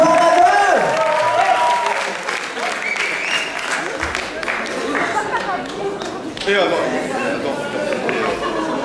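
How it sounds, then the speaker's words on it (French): A crowd at a school rock concert applauds loudly for a band from Louvain-la-Neuve, with cheering and chatter mixed into the sustained clapping and voices calling out over it. "Je vous demande encore un tonnerre d'applaudissements pour Louvain-la-Neuve."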